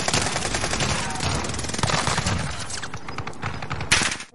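Dense video-game gunfire rattles on continuously, rapid automatic bursts layered with nearer shots and a sharp louder crack near the end, with no talking over it.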